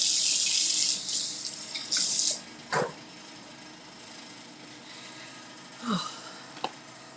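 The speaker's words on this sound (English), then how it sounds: "let me wash my hand" Tap water runs steadily into a kitchen sink while hands are washed under it, a loud broadband rush in bursts at the start that then drops to a quieter flow with a few splashes.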